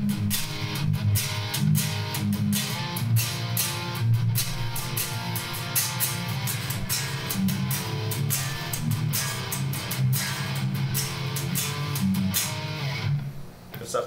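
A rhythm guitar chugs through a rock or metal chord progression with thick, driving strummed chords that ring continuously for about fourteen seconds before a brief fade at the end.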